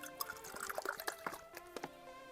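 Water poured into a measuring container while making pizza dough, about 300 ml: a close, bright trickling and splashing stream with small drips, lasting a couple of seconds.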